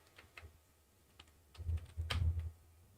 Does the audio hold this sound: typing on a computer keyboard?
yes